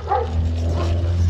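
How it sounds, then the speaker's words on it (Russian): Dogs barking on a dark street during an evening bike ride around a Kharkiv residential district, loud and close over a steady low hum of moving bikes, with a couple of quick yips. "Собаки."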